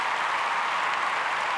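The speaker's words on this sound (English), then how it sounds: "Hold for applause." Brief burst of applause from an audience, a dense, even wash of clapping hands that holds steady for a moment with no voices over it.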